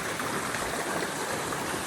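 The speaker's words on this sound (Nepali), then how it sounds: "मलाई यो पानीको साउन्ड चाहिँ एकदम धेरै मनपर्छ क्या" Water flowing steadily in a stream, heard close up as an even, continuous rush and babble that fills the whole short stretch with no pauses.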